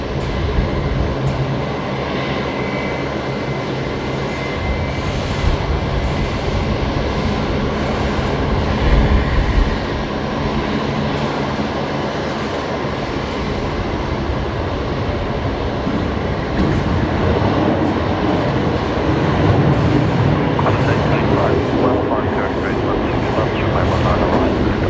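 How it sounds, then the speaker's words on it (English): A Qantas airliner arriving at Brisbane Airport from Sydney, a steady broadband jet roar that fills the scene and swells slightly toward the end, with a voice talking over it. "this is Qantas 528 coming in from Sydney"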